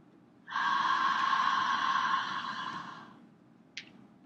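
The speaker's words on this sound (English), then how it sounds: "open your mouth real wide, and gently push the breath out, making a sound like this" A long, gentle breath pushed out through a wide-open mouth, a soft breathy hiss lasting a few seconds that fades away, followed by a brief small click, heard alone and close.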